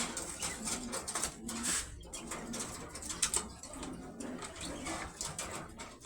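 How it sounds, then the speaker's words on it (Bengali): Quails, including a female, make soft, faint chirps and coos in quiet indoor surroundings, in scattered short bursts. "ফার্স্টে আপনাদের একটা ফিমেল কোয়েল পাখি বের করে দেখাই।"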